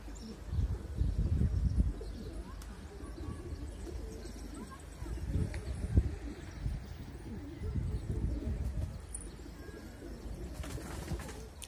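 A flock of pigeons coos and chirps nearby while birds take off and fly, soft wingbeats and calls rising and falling, with a voice heard at times.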